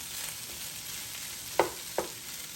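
Garlic fried rice frying in a pan with a constant close sizzle, broken by two sharp spatula clacks near the end, no talking.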